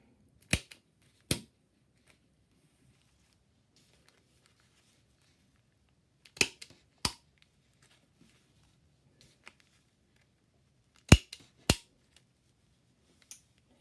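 Hand hole punch clamping through taped paper for a toy parachute, a few sharp crisp clicks in separated pairs spaced several seconds apart, close and alone over a quiet room.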